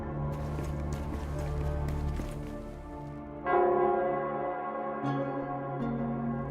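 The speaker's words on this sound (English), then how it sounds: "it's the Nell Squares bell" The Nell Square bell tolling in the video game Wuthering Waves, a deep resonant bell with long sustained ringing tones, a fresh loud strike partway through, over a busy hoof-like patter at first, no talk.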